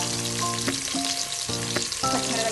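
Vegetables fry in hot oil for a veg biryani, a close, steady crackling sizzle with brief stirring clinks and no talking.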